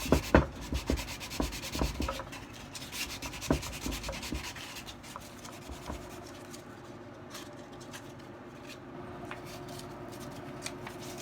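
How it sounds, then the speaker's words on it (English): Sandpaper rubs back and forth over wood in short, rhythmic scratchy strokes, close by, settling into a quieter steady rasp. "you just want to make sure you give the whole thing a final sanding"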